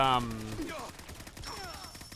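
A burst of rapid automatic fire from an M4A1 5.56 rifle in the video game Fallout 4, sharp repeated shots over about two seconds, with a voice talking between and over them.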